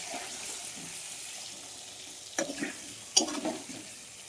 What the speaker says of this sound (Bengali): মাংস করব, আলুটা ভেজে নিলাম।